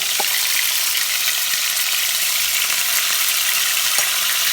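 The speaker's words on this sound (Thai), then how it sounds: "อันนี้เราทอดแล้วนะจ้าเสียงดังนะจ้ะ" Steady, loud crackling sizzle of vegetables frying in very hot oil, continuous hiss with occasional small pops and taps.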